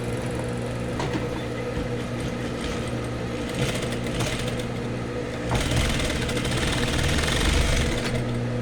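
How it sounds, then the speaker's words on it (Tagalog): A sewing machine backstitches fabric for a scrunchie, a close, steady mechanical hum with rapid needle clatter that grows slightly louder partway through. "Backstitch kayo ha, kasi pag hindi kayo nag-backstitch, madaling matanggal yung tahi."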